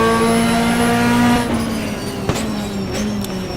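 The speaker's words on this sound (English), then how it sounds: "Down to second gear we go." A GT2 race car engine in rFactor GT2 at Mount Panorama whines at high revs, then drops in pitch through a downshift into second gear, with a couple of sharp mechanical clicks as the revs fall.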